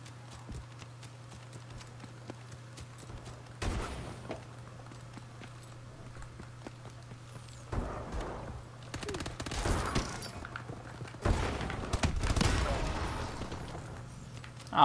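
Bursts of rapid gunfire from a futuristic weapon in Call of Duty: Advanced Warfare multiplayer, several loud volleys spread over a steady low hum with quieter clatter between them.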